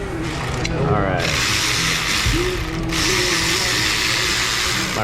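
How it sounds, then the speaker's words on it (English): A hand ratchet clicks and misfires during repair work on a 2017 Hyundai Sonata 2.4, loud, close ratcheting bursts mixed with shop noise and some mechanical rattling over about five seconds. "My ratchet misfired."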